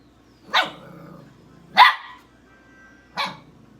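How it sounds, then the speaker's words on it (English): A dog in a crate gives three sharp, loud barks spaced about a second apart, with faint whining and low grumbling in the quiet between them. "When it's that extensive, that's completely a bark for attention."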